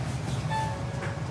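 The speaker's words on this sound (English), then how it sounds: "Särkänniemi tram stop. There it comes." A tram pulling into the Särkänniemi stop in Tampere gives a close mechanical rumble, with a brief high tonal squeal or hum rising over it as it arrives.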